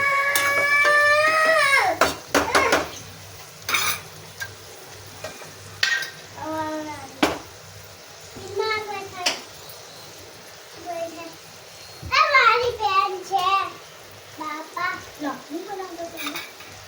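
Onions frying golden brown in a pan for dum aloo, a continuous sizzle running beneath frequent bursts of chatter and lively children's voices nearby.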